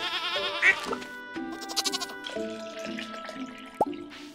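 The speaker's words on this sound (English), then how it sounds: "where's the other goat?" A goat bleats in the Stardew Valley farming game, a short wavering cry near the start followed by more tonal game sounds, bright chimes and a quick rising blip, all fairly close and clear.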